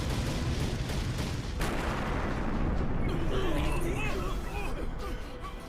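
Dense, continuous booming and rumbling of cannon fire, with faint chirping noises over the roar.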